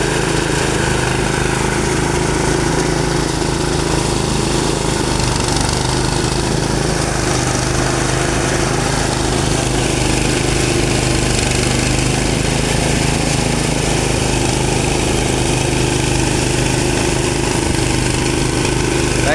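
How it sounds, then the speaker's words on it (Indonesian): A ProQuip 9 HP engine drives a rice threshing machine at half throttle, giving a loud, steady, close-up drone that holds evenly throughout with no talking. "ProQuip 9 HP dengan setelan gas setengah dari full, setengah dari total gasnya"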